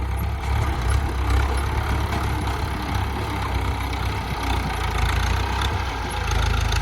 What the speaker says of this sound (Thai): เครื่องยนต์สี่สูบ เจ็ดสิบแรงม้าครับ